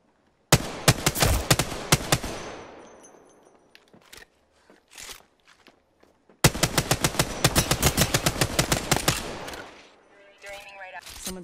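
Automatic weapon fire in Apex Legends on PS4, two long bursts of rapid, loud close shots separated by scattered single cracks and brief pauses, with a few trailing mechanical clicks near the end.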